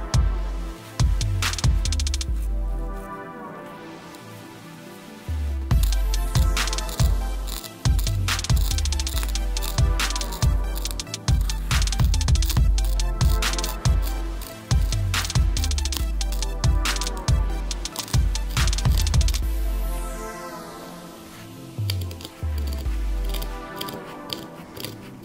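A homemade DIY pipe cutter works on a pipe, giving repeated close scraping and cutting strokes in irregular bursts across about 25 seconds, with a few short pauses and no talk.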